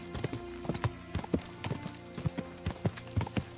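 Horse hooves clip-clop in a steady trotting rhythm in the video game Kingdom Come: Deliverance II, fairly close and moderately loud, with no talking.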